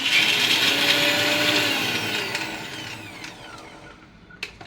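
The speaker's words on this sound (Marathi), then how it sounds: "आता आपण मिक्सरला लावणार आहोत" A mixer grinder whirs loudly, grinding garlic, green chili and rock salt into a paste; the motor whine winds down over a few seconds, ending with a couple of clunks.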